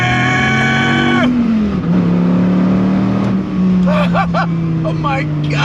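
A fourth-generation Dodge Viper ACR roars as it accelerates on a drive, its loud engine note rising then dropping with a gear change while a person talks excitedly over it.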